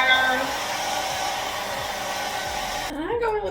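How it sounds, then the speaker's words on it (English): Hair dryer on its low setting blowing steadily and close, a continuous airy whir that shifts pitch near the end as it is moved or switched. "And then just go on low with the hair dryer."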